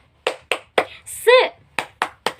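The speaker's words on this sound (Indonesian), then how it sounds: "Coba sekarang ibu mau cek dulu semangatnya ya dengan tepuk semangat." A schoolroom class claps a rhythmic spirit chant, sharp evenly spaced hand claps in quick groups with a brief spoken or shouted word between them, loud and close.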